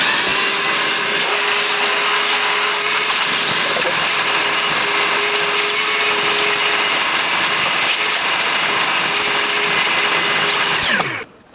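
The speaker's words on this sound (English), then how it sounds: "let's go ahead and give that a good vacuum." A cordless Evolution R11VAC-Li wet/dry workshop vacuum runs with a steady loud whine and rushing air for about eleven seconds, then winds down and stops.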